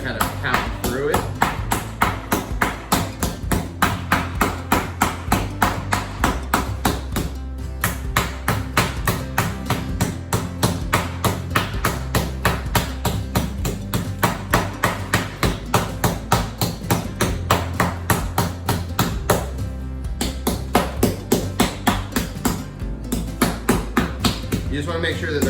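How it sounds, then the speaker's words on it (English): Pork cutlets pounded flat with a meat mallet for Milanese, a steady rapid run of loud, close thuds repeating throughout with brief pauses, while a voice talks over the pounding. "we're just gonna pound them out until they get to be about a quarter of an inch, half an inch"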